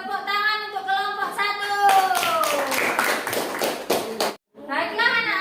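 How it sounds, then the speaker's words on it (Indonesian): Group clapping in a primary classroom during a lesson on the human digestive system, a burst of quick hand claps from many children lasting a couple of seconds, with a voice heard before and after. "tepuk tangan untuk kelompok"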